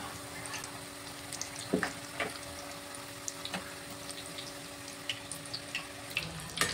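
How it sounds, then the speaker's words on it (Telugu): Egg puffs frying in oil over a medium flame make a soft, continuous bubbling sizzle, with occasional light pops and utensil touches, close and fairly quiet. "కాబట్టి మీడియం ఫ్లేమ్లో పెట్టుకొని అయితే మంచిగా పఫ్స్ని అయితే ఫ్రై చేసుకోవాలి."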